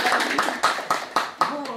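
A small group of residents at a Korean neighborhood meeting claps for the senior association chairman, about five distinct, evenly spaced claps close by, with people talking over them.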